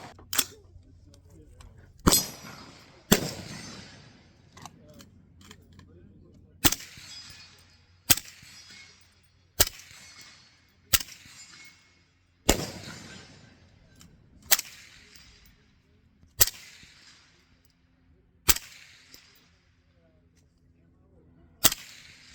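Single gunshots ring out at an outdoor shooting range from a home-built rifle with a Franklin binary lower, about a dozen sharp loud cracks spaced a second or two apart, each with a brief echo, with faint background noise between shots.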